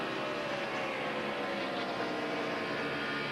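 NASCAR race car at the 2002 Pennsylvania 500 holding full throttle, a dense, continuous engine roar heard steadily and loud throughout.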